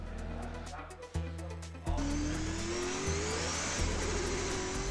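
A drift car at Road Atlanta revs and accelerates up through the gears, with engine tone climbing and tire noise rising, as a voice speaks briefly over the early part.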